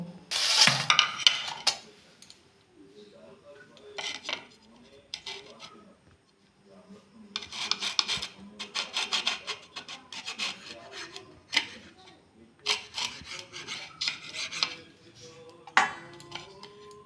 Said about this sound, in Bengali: পাউরুটিগুলো প্রথমে আমি কেটে নেব